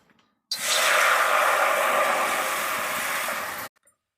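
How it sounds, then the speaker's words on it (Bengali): Water is poured into a hot kadai wok that has just been used to roast white sesame seeds, making a sudden loud, steady sizzling hiss that lasts about three seconds and then stops abruptly. "আমি কড়াই জল দিয়ে দিচ্ছি।"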